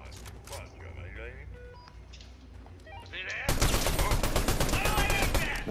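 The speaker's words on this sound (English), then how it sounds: "Gunshot." Fortnite gunfire in a trios match: scattered single shots, then from midway a loud dense burst of rapid fire, with voices talking over it.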